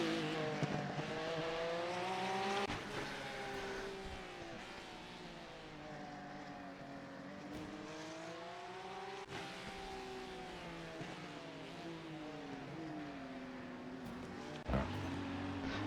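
Race car engines from iRacing at Mount Panorama, including a Porsche in a GT sprint race, whine continuously with rising and falling pitch as the cars shift gears, steady and fairly loud with a few sharp thumps.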